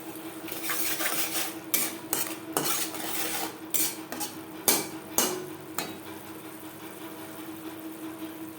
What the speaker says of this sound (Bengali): লো ফ্লেমে 4-5 মিনিট মশলা বেশ ভালো করে কষিয়ে নেব